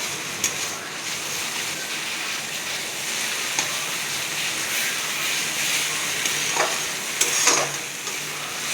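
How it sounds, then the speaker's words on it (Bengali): Pumpkin-flower poppy-seed paste fries in a pan with a steady, close sizzle and hiss, broken by a few sharp clicks and scrapes of stirring. "একদম ভাজা ভাজা হয়ে যাবে এটা।"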